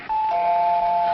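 A doorbell rings in a 1955 domestic sitcom scene, a single sustained electric chime tone held clearly for about a second with no talking over it.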